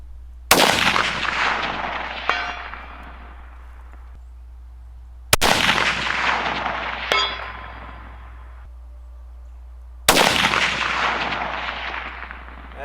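Three loud rifle shots ring out at an outdoor range, each followed about two seconds later by a faint metallic clang of the bullet striking a steel target 450 yards away, with long decaying echoes between shots.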